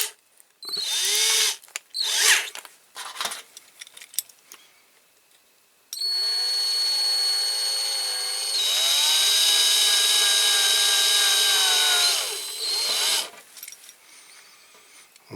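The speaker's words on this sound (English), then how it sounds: "No, I think I might have to drill it" A small drill bores into a Corgi Ghia L6.4 die-cast model car with a Chrysler V8 engine during restoration, starting in short whirring bursts, then running in a steady, loud, high-pitched whine for several seconds before stopping.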